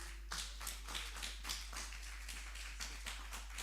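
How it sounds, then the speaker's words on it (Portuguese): A church congregation claps for Jesus during a worship service, a quiet, uneven patter of hands in a steady rhythm lasting several seconds, somewhat distant and soft. "vamos aplaudir a Jesus pela vida dele"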